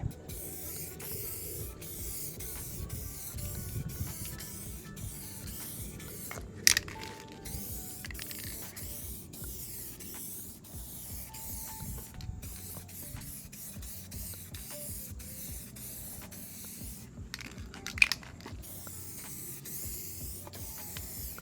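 Metallic midnight purple paint is sprayed from a rattle can onto a car body in a steady, close hiss that runs almost unbroken, with faint clicks and two brief sharp knocks partway through.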